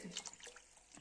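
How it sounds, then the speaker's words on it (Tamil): Water being poured into a pot of crab rasam, a short, soft splashing trickle heard close up with no voices. "தண்ணி ஊற்றிக்கலாம்"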